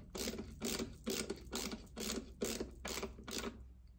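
A strap button being screwed into a ukulele's wooden block, heard as about eight evenly spaced ratcheting, grinding bursts of twisting, close up with no talking.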